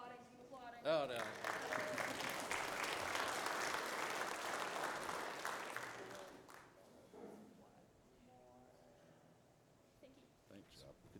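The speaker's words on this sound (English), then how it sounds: "Keep applauding, keep applauding." Conference audience at a mining health and safety technical session applauding loudly for about six seconds, then the clapping fades away to scattered claps and quiet room noise, with faint voices near the end.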